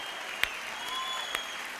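A church audience applauds the women of the congregation: a dense wash of clapping, fairly soft and steady, with a few sharper claps poking out.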